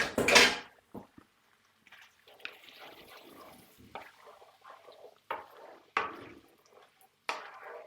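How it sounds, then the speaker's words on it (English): Canned white beans tipped into a hot pot in a home kitchen, a sharp burst of sliding, splashing beans at the start followed by scattered soft clinks, drips and bumps of utensils and cookware. "And then in with your white beans"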